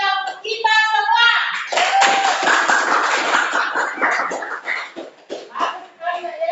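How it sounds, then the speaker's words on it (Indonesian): A class of schoolchildren claps together in a lively burst, with voices chatting and calling out over the claps before things settle toward talk. "Sekali lagi, tepuk tangan yang meriah untuk kita semua."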